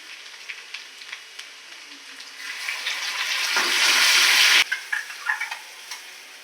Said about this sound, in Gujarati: લસણ એડ કરીશું હવે જે કૂટીને રાખ્યું છે તે થોડી વાર શેકાવા દઈશું